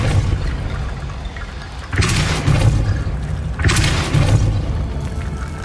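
In the Hogwarts Legacy video game, Depulso spell blasts hit as two loud, booming bursts about two seconds apart over a steady game background rumble.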